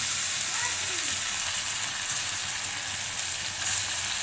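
A continuous, fairly loud hiss of prawn, coconut and poppy seed paste frying in a little oil in a wok, steady throughout with no talking.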